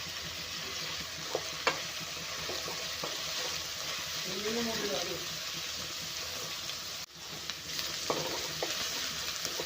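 Noodles fry on a high flame with a soft, continuous sizzle and occasional stirring clinks, heard fairly quietly with a faint voice-like murmur in the middle.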